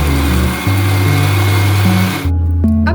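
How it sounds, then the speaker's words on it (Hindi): A kitchen blender whirs steadily as it purées mango with sugar and water, a loud, close motor hum that shifts pitch a few times as the load changes. "अब हम मैंगो को एक ब्लेंडर में डालकर अच्छे तरीके से ब्लेंड कर देंगे"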